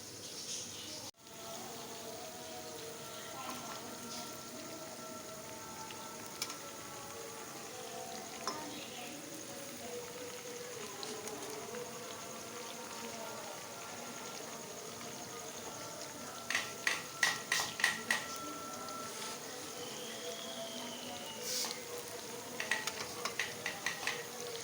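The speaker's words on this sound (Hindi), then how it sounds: "सारे कोफ्ते ऐसे मैं फ्राई करूँगी।" Dahi masala hara koftas frying in oil, a soft steady sizzle and faint bubbling running throughout, with a few sharp utensil clinks and light knocks toward the end.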